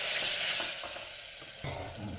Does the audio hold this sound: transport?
no